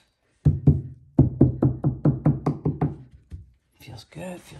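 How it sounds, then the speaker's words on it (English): A rapid series of about a dozen sharp hammer strikes on stair carpet, close and loud, tapping in a quick uneven rhythm before a brief pause and a soft voice. "take my hammer"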